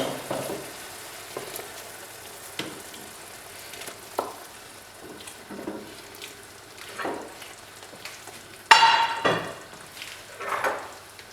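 Chicken pieces sizzle and fry in a pot for chicken kabsa, a steady low crackle broken by intermittent stirring scrapes and a sharper burst of spitting near the end, heard close with no talking.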